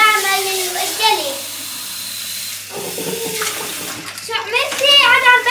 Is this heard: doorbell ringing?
no